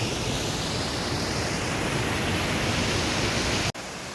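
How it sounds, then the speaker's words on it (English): A waterfall on a hill route up to the Lake District copper mines rushes in a dense, steady roar, loud and close, continuing unbroken with a brief dip near the end. "On this route up to the copper mines, there are quite a few waterfalls to see. You can probably hear this one behind me."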